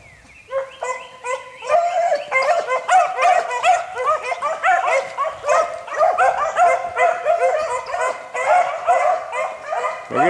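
A pack of hunting dogs barks and yips continuously while running, many overlapping voices in a busy, steady chorus at close to middle distance with no talk.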